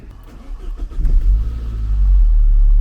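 A Saab 93 with a freshly recharged battery cranks and catches, its engine rumbling low and building into a steady, loud run that swells toward the end.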